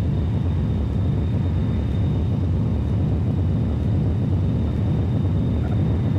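Airliner engines held at takeoff throttle in the X-Plane flight simulator, a steady, dense roar with a faint constant whine on top and no change in level throughout.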